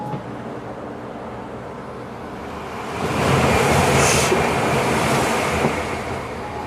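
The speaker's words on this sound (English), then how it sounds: "When that bullet train passed by" A Japanese bullet train rushes past outside a stationary train, a steady rumble swelling into a loud, broad whooshing roar midway through that holds to the end.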